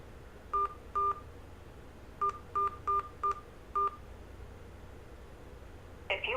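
Telephone keypad tones on a freeconferencecall.com line as an access code is entered: seven short, clear beeps in uneven groups, two then five, over a faint steady line hiss.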